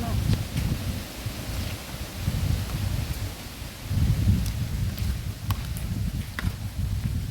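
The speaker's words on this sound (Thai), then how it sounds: "ลมพัดเข้าเนาะ" Wind gusting through an outdoor spot where bamboo tubes of sticky rice are being roasted, a steady low rumble that swells around the middle and fades, with faint rustling on top.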